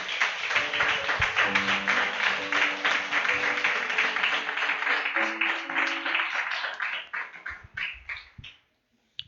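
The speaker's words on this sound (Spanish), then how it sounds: "Dale un fuerte aplauso al Señor." A church congregation claps during a Spanish-language worship service, rhythmic applause with sustained tones from music or voices underneath, fading and breaking up into scattered sounds before stopping near the end.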